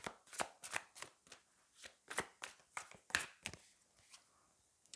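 A tarot deck being shuffled and handled before a three-card draw, with a series of crisp, close riffling and slapping bursts spaced irregularly, loud and alone.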